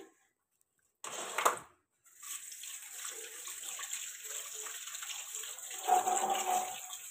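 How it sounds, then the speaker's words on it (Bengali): Catla fish pieces are washed with water, heard as a short splash followed after a pause by a steady running-water rush with faint sloshing, close by and without talk. "তো মাছগুলোকে এখন একটু ধুয়ে নিই।"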